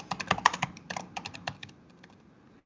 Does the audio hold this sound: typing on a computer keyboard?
yes